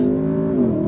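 An Audi S8 sits held on the brake with its engine revved hard for a launch from standstill, a loud close steady droning rev that dips slightly in pitch.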